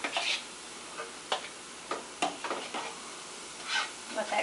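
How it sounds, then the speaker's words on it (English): Snow crab legs are tossed and stirred into a pan, with scattered scraping, clicking strokes and short bursts of soft sizzle separated by quiet gaps. "I'm going to go ahead and toss this in here and mix it in"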